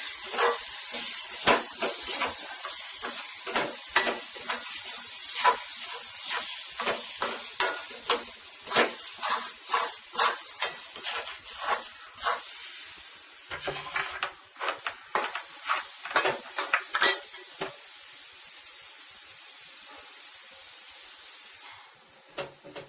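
Halwa cooking in a pan over a low flame, close and fairly loud, with repeated scraping stirs and a soft sizzling hiss underneath that drops away abruptly near the end.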